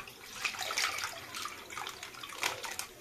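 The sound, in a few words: pouring packet of Red Cow milk into pot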